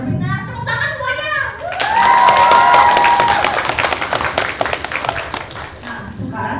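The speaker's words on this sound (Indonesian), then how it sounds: "Nah, tepuk tangan semuanya." Audience applause and cheering swell loudly at a student theatre festival, a dense crowd of clapping with children shouting, rising after a brief lull and sustained for several seconds.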